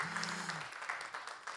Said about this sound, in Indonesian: Kita berikan tepuk tangan yang meriah untuk moderator kita yang luar biasa, Bapak Azhar Taufik.